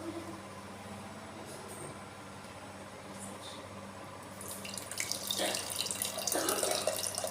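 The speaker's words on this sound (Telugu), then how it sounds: "ఇప్పుడు ఈ నీళ్ళు ఈ పప్పులో పోసుకోవాలి." Water pours into a container of lentils, starting as a quiet trickle over a low hum and swelling into a louder, splashing stream in the last seconds.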